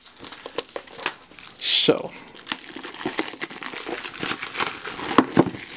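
Plastic shrink wrap is peeled and crumpled off a Cards Against Humanity box, a close run of crackling crinkles with one louder tearing rustle, while someone talks over it.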